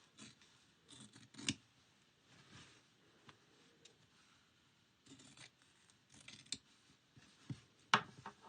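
Scissors snip through fabric for kitchen towels in a few quiet, scattered cuts with pauses between, close by and with no talking.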